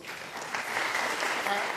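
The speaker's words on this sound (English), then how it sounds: "If you can have a big round of applause" Audience applause for panelists at a market research conference, a short even patter of many hands clapping with a faint voice underneath.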